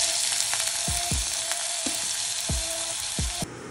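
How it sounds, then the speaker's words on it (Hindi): Onions fry in hot oil with a steady, loud sizzle throughout, broken by several soft thumps from stirring, and the hiss dips slightly just before the end. "जैसे ही हमारा तेल गर्म हो रहा है इसके अंदर मैं डाल रही हूँ मेरे प्याज"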